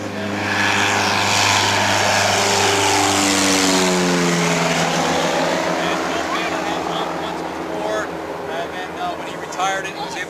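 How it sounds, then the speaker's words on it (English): A loud, droning 200-horsepower Mercedes piston engine on a WWI biplane runs steadily nearby at an air show, its tone shifting downward as it passes, with a rough, rumbling throb. "It's got a 200 horsepower Mercedes engine in there, just like the original airplane had"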